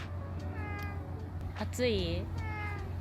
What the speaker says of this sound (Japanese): 猫だ。